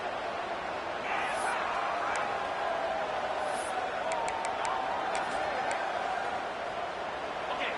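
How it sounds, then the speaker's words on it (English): A stadium crowd roars in the College Football 26 video game during a Texas Tech versus Kansas State matchup, a dense, constant wash of cheering with faint voices. "Guns up, and so is the noise. The crowd electric, trying to help Tech on this 3rd down."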